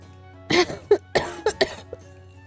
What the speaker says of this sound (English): I hope this cough goes away soon.